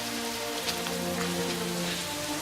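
Steady heavy rain falls in the 1994 film The Crow, a dense unbroken hiss of drops on hard surfaces with no other sound over it.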